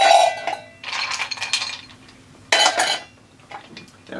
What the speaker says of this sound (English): Fistful of ice cubes in your tin cup.